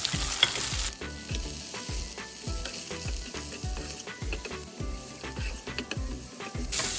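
Frozen ivy gourd sizzles in a pan with spices while a spatula stirs it, producing rhythmic scraping knocks roughly every half second over a constant frying hiss.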